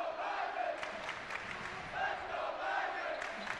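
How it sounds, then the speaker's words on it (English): A basketball arena crowd roars and cheers continuously at a North Dakota State game against Southern Miss, a dense wall of voices with swelling whoops throughout. "Listen to this crowd."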